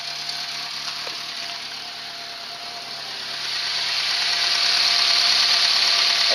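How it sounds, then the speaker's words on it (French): A Renault 11 TXE engine idles with an exhaust leak, a steady mid-pitched hum overlaid with a hissy, ticking rasp that grows louder and brighter partway through, with no voices. "je pense qu'il y a une fuite à l'échappement"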